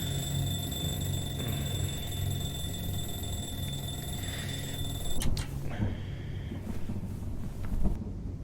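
An alarm clock rings in a video game, a steady electronic tone with a low rumble underneath that cuts off partway through, followed by a few faint knocks.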